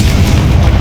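A Confringo fire-blast spell explodes in the Hogwarts Legacy game as one loud, sustained booming burst with a heavy low rumble lasting under a second.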